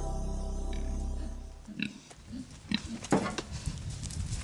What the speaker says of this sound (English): pigs that were born inside a research laboratory